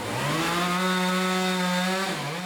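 A chainsaw runs at a steady high pitch while carving wood, its engine whining loudly and evenly before dipping briefly near the end.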